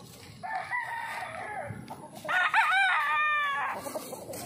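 A tethered young gamecock crows twice outdoors, a shorter call followed by a longer, louder one, with soft background noise and no talking.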